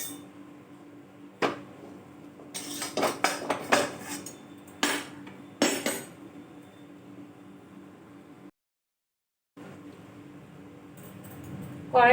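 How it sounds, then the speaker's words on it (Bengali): Metal wok (kadai) being washed in a kitchen, with clanks and scraping knocks of the pan against utensils, a run of bright metallic hits in the middle, a short silent gap, then quieter rinsing and handling noise. "কড়াইটা আমি ধুয়ে নিয়েছি"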